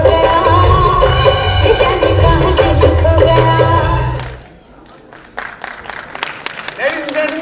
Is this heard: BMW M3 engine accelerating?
no